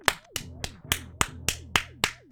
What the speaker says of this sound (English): Let's all give him a quick golf clap.